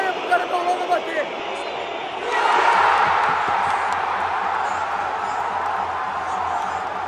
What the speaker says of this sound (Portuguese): Você olha a vaia pro cara da Holanda bater.